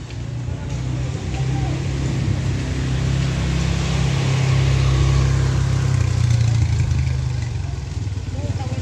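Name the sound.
motorcycle engine running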